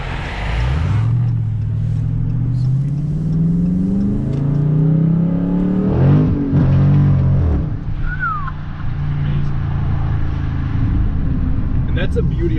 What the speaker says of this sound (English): It's really just that American, like, sounding V8.